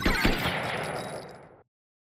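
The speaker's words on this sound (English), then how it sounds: "So you should hear like the rounds tinkling on the floor, and you can see them kind of ejecting out." Close, rapid automatic gunfire in an Unreal Engine 5 mini game, with casings ejecting onto the floor: a dense burst of shots that fades away, then silence.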